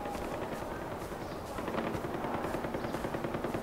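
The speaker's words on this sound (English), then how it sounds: "Where's that shooting coming from?" Automatic gunfire from the video game Far Cry 4, a steady rattle of rapid shots running through the whole stretch at a fairly close, loud level with no talk over it.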